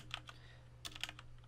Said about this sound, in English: let's go ahead and begin by typing netstat